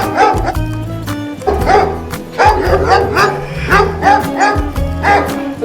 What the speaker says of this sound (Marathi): कुत्रे जाम वाढले तर गावात.